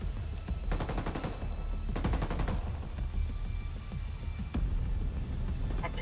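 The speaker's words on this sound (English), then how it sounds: "Is that what my gun does? That's pretty terrifying." Bursts of rapid gunfire from the player's weapon in the Ghost Recon Wildlands shooter, two quick strings of shots followed by single cracks, loud over a constant rumbling engine-like background, no voices.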